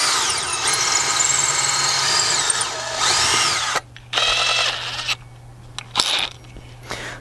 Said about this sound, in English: what we're going to do is we're going to take the drill and drill a pilot hole